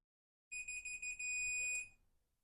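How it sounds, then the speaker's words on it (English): A high electronic beep from a multimeter's continuity buzzer sounds briefly, first in quick pulses and then as one steady tone, before cutting off. "multimeter there is set to the buzzer to check for the resistance"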